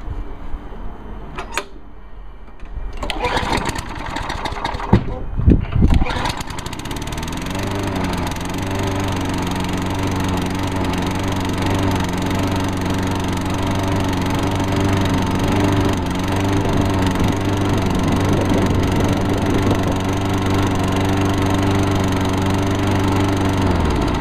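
A lawn mower engine sputters through a few rough starts, then settles into a steady, loud running drone that holds for the rest of the clip.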